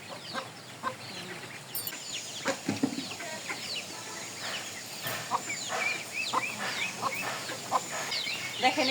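Chickens on a small farm, just released from their pen after rain, cluck and chatter in short irregular bursts with occasional wing flaps, fairly close but soft.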